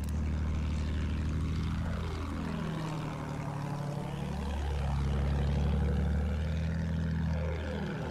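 A heavy bomber from the Battlefield 1 game drones with a steady multi-engine propeller roar, its pitch swooping down repeatedly as it passes close overhead, with no voices over the sound.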